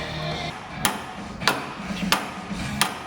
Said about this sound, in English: What are you hitting it with? Hammer.